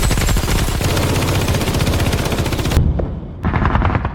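Russian troops fire in a movie action scene: loud, rapid automatic gunfire in dense bursts that cuts off sharply, then a short renewed volley.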